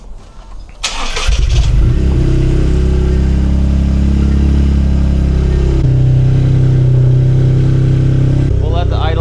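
A turbocharged Toyota GR Corolla engine with a K&N intake cranks and fires up near 1 second, then settles into a loud, steady rumbling idle that shifts pitch slightly, with a brief voice near the end.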